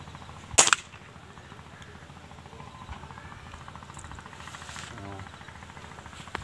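A single sharp air rifle shot cracks out early, fired at a target while zeroing a scope, standing loud over a quiet outdoor background with a low engine-like hum, followed by a faint rattle later.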